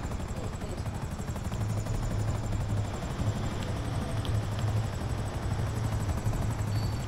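Video game helicopter rotor throbbing steadily and loudly throughout, a continuous close chopping drone with no pauses.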